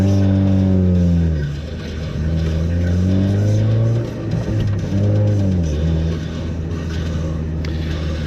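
A car engine drones through stop-start traffic at roadworks, a loud close hum whose pitch falls and climbs again as the car slows and pulls away several times, with occasional gear-change dips.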